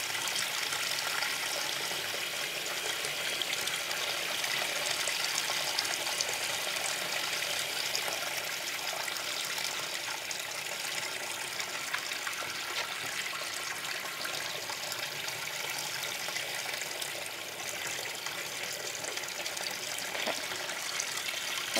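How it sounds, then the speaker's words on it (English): A tap runs steadily while hands are rinsed with fingertips pointing down at a sink, producing a continuous close, bright splashing gush of water with no talking. "I'm gonna rinse my hands off."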